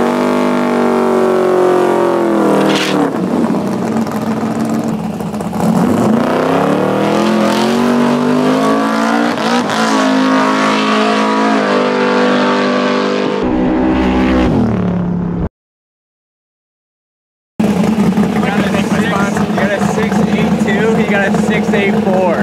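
A 900 hp 1969 Camaro and a 650 hp 2022 Camaro ZL1 roar during a drag race, with loud rising engine revs and shifts through the gears, a sudden silent gap, then a loud engine again under people talking.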